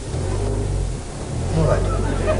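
A car engine idles steadily after being started, a low continuous rumble with a slight rise in revs toward the end, while people talk over it.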